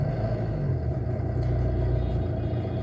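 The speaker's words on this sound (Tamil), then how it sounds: "வண்டி ஸ்டார்ட் ஆகிறது உங்களுக்கு சவுண்டு தெரியும்" A car engine idles just after starting, giving a close, steady low rumble with a slight clattery texture that holds even for the whole stretch, with no voices over it.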